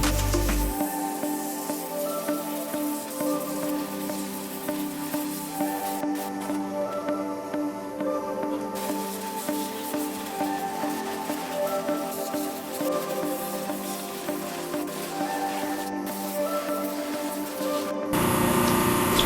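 Cleaner sprayed onto a caribou skull in a steady hissing stream, close and fairly quiet, with short pauses and brief bursts of spray near the end, no voices.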